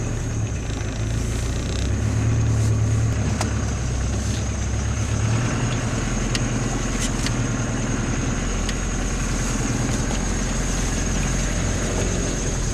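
A 4x4 off-road vehicle idling, a steady low engine rumble that continues evenly throughout, with a few faint clicks and knocks above it and no talk.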